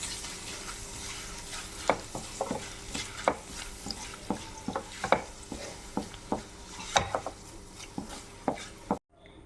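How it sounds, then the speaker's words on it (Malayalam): Curry leaves crackle as they fry in hot oil for Kerala chicken pickle, with a steady sizzle broken by sharp irregular pops and stirring clicks, close and clear, ending abruptly. "കിരികിരാന്ന് ശബ്ദം കേൾക്കും കരിയാപ്പില നമ്മൾ ഫ്രൈ ചെയ്യും"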